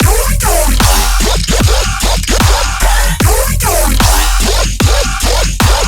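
A heavy riddim dubstep drop pounds with deep sub bass and wobbling, growling synth hits in a steady, choppy rhythm, loud and unaccompanied by voices.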